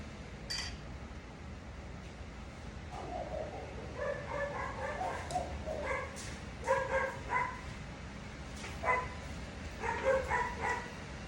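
A dog barks, yips and whimpers in a fussy, irregular run of calls over a steady fan-like hum, heard at moderate distance with no one talking.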